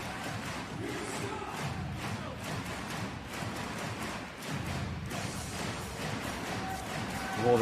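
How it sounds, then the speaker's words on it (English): A packed volleyball arena crowd at an Olympic qualification match between Japan and Turkey roars in a dense, continuous wash of voices, with thumps under it and a swell near the end. "Crowd in good voice tonight."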